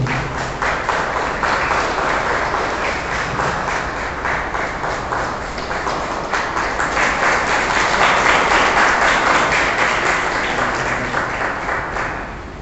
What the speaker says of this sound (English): I request all of you to stand and give a big applause and welcome our Marian ministers.